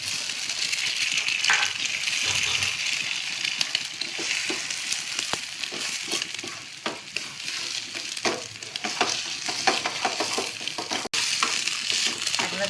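Beaten egg for dhaba-style egg tadka is scrambled over a high flame with a pinch of salt, with constant spatula scraping and clinks against the pan over a steady, close sizzle.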